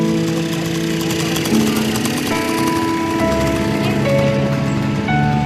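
A rented motorbike idles and revs on red desert sand near Riyadh, a loud continuous buzzing engine with shifting tones, close by and steady throughout.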